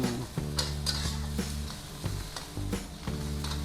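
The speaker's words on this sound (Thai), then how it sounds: "กระเทียมเจียวกับเต้าหู้ไปผัดด้วยกันนะคะ ทำให้เต้าหู้สุกก่อน" Tofu and fried garlic are stir-fried together for pad thai at a noodle shop, with rhythmic metallic scraping strokes against the pan over a steady sizzle and a low mechanical hum beneath.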